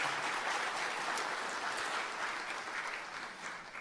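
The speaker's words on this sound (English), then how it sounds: "Round of applause for all of our sponsors once again" A conference crowd claps steadily in a dense wash of applause that slowly fades toward the end.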